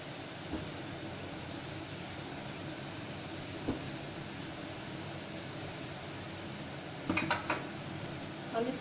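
Boondi batter dropped into hot oil sizzles in a steady, faint hiss, with a few light clinks of a utensil near the end and no talk over it.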